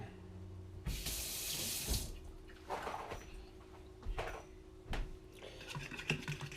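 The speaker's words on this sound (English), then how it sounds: "wash your hands a little bit" Tap water runs into a sink as hands are washed, a steady close splash for about a second followed by shorter bursts of running and dripping water with small handling knocks in between.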